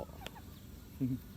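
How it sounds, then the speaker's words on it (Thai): A couple of soft, short clucks from bantam chickens, one brief and one slightly louder near the end, over quiet background noise. "ไก่แจ้ ขาสั้น"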